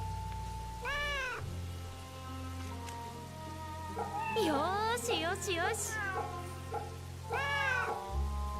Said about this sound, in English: We're gonna pet another kitty cat.